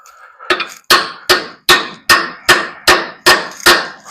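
Eight sharp metallic hammer taps driving a bolt through a truck's front shock mount during a Rough Country shock install on a squarebody, evenly spaced, close and loud, after a softer first knock.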